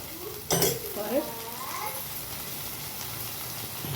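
Onion, tomato and mint being mixed in a pan: one sharp clatter of utensil against the pan early on, then soft stirring and scraping under a faint voice-like murmur.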